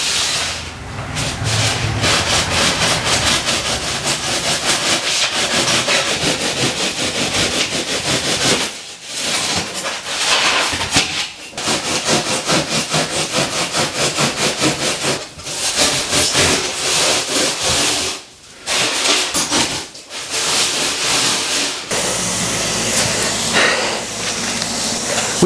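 Foam is carved by hand to shape a custom dash for a Willys, with continuous rough rasping and scraping strokes, loud and close, broken by several brief pauses.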